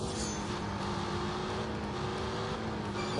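A Mercedes with a 2.3 litre engine drives in The Grand Tour video game, its steady engine drone holding evenly throughout without revving changes.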